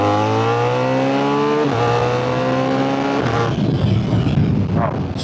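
A BMW R1300GS motorcycle fitted with a Black Widow exhaust revs up through the gears, its loud, close engine note climbing steadily in two pulls before easing off into a rough, burbling idle.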